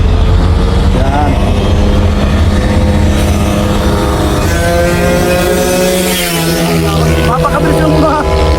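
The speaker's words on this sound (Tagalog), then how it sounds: "Mapakabilis yung mga motor na to" Motorcycles speed along a road in Valenzuela City, a loud continuous engine roar that swells and shifts pitch throughout, with a person talking over the traffic.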